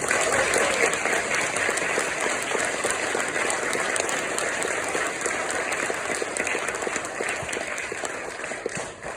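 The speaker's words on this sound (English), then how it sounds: "Can we please give them another round of applause?" Sustained audience applause fills an MLK Day 2023 event held by the Oneonta Area NAACP, a dense steady wash of many hands clapping at once that stays loud throughout, with no voices standing out.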